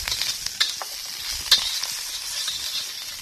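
Chili and garlic sizzling in hot oil with curry leaves in a wok, a close, steady frying crackle with a few sharper pops and stirring scrapes, no talk.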